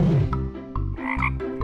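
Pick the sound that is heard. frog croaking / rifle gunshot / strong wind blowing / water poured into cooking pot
frog croaking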